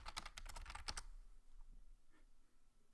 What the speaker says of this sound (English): Hang on, I'm typing.